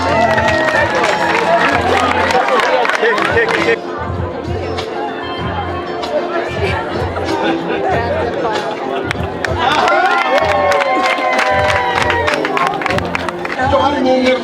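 An audience at a lively gathering bursts into sustained applause mixed with cheering and excited crowd chatter, loud and continuous throughout.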